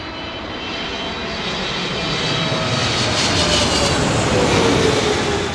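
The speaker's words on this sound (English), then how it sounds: "You can hear the vortex, mate, across the top." An airliner landing at Heathrow Airport passes with a broad, loud engine roar and rushing air that swells steadily as it nears, with no voices.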